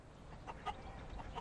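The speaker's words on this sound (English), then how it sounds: "Clucked Ginny happily." A cartoon hen clucks in a short, soft burst of bird calls over a faint, steady background, with no talking.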